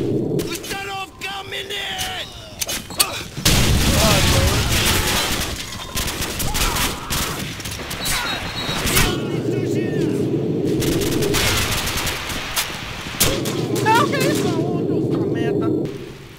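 Call of Duty 4: Modern Warfare multiplayer match with a grenade explosion and bursts of gunfire, loud booms and rattling shots running throughout amid game noise, with players talking over it.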